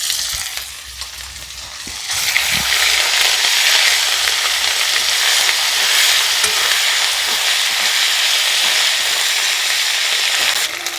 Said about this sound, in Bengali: আদার কাঁচা গন্ধ যাওয়া অবধি নাড়াচড়া করে আমি ভেজে নিয়েছি